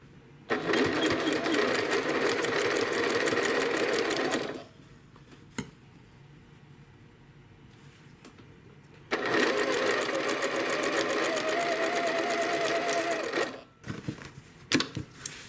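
A sewing machine stitches a quilt block in two steady, fast-running bursts separated by a quiet pause, ending with a few short clicks.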